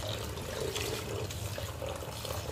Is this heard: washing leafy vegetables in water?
yes